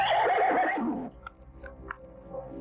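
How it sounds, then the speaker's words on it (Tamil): A horse gives one loud, close whinny that trails off after about a second, followed by a few faint clicks and knocks in a quiet space. "குதிரை கிடைக்கிற சத்தம் கேட்கலீங்களா?"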